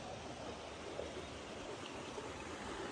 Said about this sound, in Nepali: मेरो ब्याकग्राउन्ड भएको चाहिँ मेची खोला हो